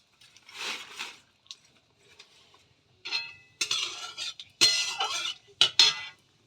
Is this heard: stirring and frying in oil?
yes